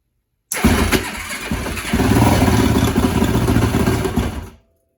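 The engine of a 2004 Yamaha YFZ450 quad, just back together after repairs, cranks briefly and then fires into a loud, rough-running idle that lasts about four seconds before cutting off.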